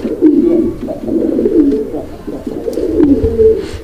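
A big yellow Indian Bombai pigeon coos in low, throaty rolling phrases, repeated steadily and close up, with no talking over it.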